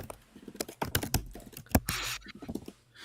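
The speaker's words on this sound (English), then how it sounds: "Like you're smashing those keys right now." Hard, forceful typing on a computer keyboard during a live coding session: rapid, uneven clacks and heavy key strikes up close, with a brief rattling burst in the middle and no voices.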